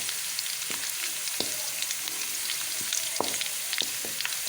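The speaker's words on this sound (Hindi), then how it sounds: "उसमें मैंने एक दरमियाने साइज़ की प्याज काट के डाल ली है। इसको हम हल्का सा ब्राउन करेंगे।" Chopped medium onion frying in ghee, a steady close sizzle with faint crackle and occasional utensil taps, no voices.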